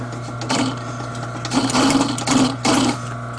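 A sewing machine makes a diagonal repair pass, its needle motor whirring steadily under a low hum and rising into several louder stitching bursts close by, with no voices.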